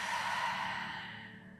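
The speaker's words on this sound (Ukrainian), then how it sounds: "Давайте зробимо ще один вдих і видих через рот." One slow, close breath released through the mouth during a yin yoga stretching session, a soft airy exhale that gradually fades over under two seconds, with no speech.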